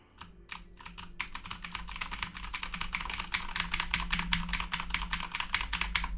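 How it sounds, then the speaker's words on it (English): Rapid, steady typing on a computer keyboard, close and fairly loud, with a low hum underneath and no talking. "I was being loud on the keyboard so you can hear that it's actually working"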